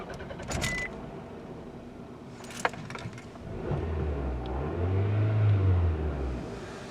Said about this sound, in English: the Camry exhaust problem has been resolved